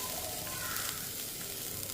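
Chopped beetroot sautéed with onion and carrot in a pan makes a soft, steady sizzle with faint stirring, brief and fairly quiet.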